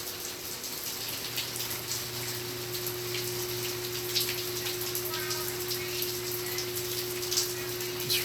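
Rain falls outdoors all day, an unbroken hiss of drops striking the ground and nearby surfaces, steady and moderately loud with a few slightly sharper splashes and no talking.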